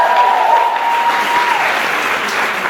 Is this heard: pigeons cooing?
no